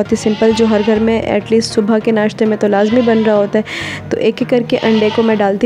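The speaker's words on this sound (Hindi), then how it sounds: "सॉरी फॉर बकरा की आवाज़" A goat kept at a home in Pakistan on Eid ul-Adha morning bleats repeatedly in the background. Someone talks steadily over the bleating throughout.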